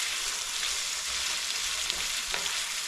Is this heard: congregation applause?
no